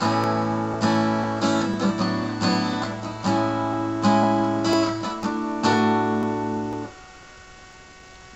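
Strummed guitar chords ring out in a steady sequence of changes, each strum sustaining before the next, then fading to quiet at the end.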